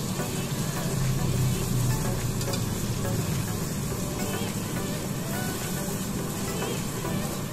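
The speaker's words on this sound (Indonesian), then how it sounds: "Nah, ini lalu kita masukkan bumbu gulainya. Kita tumis sampai harum." Gulai spice paste sautés in a pan, a dense, continuous hiss and crackle of frying with steady scraping and stirring, close up and loud throughout, with no one talking.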